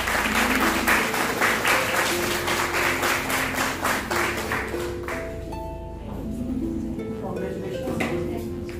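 Audience applause at a college award ceremony honouring daughters at Khalsa College, a dense wash of clapping that fills the room, with sustained musical tones rising through it toward the end.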